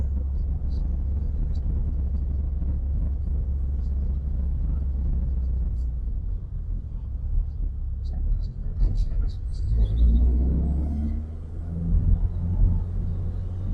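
A race-prepared Peugeot 106 Rallye on the move gives a steady low interior drone and rumble that swells with bursts of revving near the end, while people talk over it.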